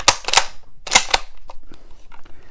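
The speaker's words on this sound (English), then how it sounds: "It is not smooth to break that bolt, to cock that cock the firing pin with" Bolt of a Mosin Nagant 91/30 rifle being worked, a few sharp close metallic clacks and snaps in quick succession, followed by quieter small clicks and handling noises.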